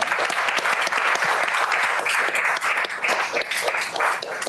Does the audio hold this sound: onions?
no